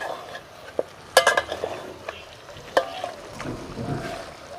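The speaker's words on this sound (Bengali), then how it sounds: "একটু নাড়াচাড়া করে দিচ্ছি" Chicken kosha frying in a pan is stirred with a utensil, giving scattered scrapes and clinks over a soft sizzle, close and moderately quiet.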